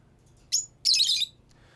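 Exotic birds recovered from a home in Thurston County give two short, bright squawking calls close by, a brief chirp followed by a longer harsh squawk, over a quiet background with no talk.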